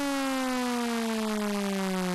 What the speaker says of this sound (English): Let's take the saw wave for example. If you pitch bend it down